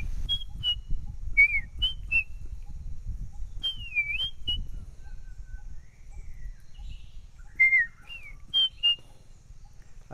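A man whistles clear, sliding bird-like calls to imitate a bird, scattered short phrases with pauses between them over low outdoor rumble.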